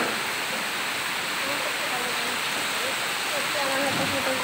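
Rain falling, a dense, loud and steady hiss throughout, with faint voices talking under the noise.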